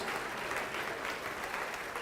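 A church congregation claps together in praise during a sermon, a dense, steady wash of applause that holds at an even level throughout, with no voices standing out.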